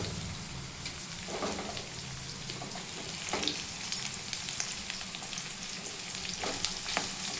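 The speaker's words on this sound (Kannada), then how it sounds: "ಸ್ವಲ್ಪ ಡೀಪ್ ಫ್ರೈ ಮಾಡ್ಕೊಂಡ್ರೆ ಮೆಣಸಿನ್ಕಾಯಿ ಆಯಿಲಲ್ಲಿ ಚೆನ್ನಾಗಿ ಫ್ರೈ ಆದರೆ" Green chillies deep-fry in hot oil for a sambar, giving a continuous dense sizzle and crackle with occasional louder pops and stirring scrapes, close and steady throughout.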